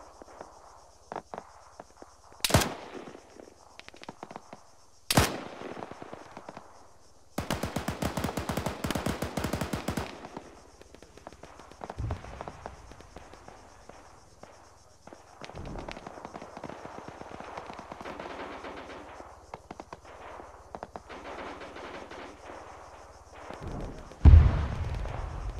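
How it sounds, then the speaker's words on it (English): Gunfire in a video game, scattered sharp shots and a sustained automatic burst, some loud and near, others faint and distant, over a quiet low hum. "Pot shots off to the northeast again."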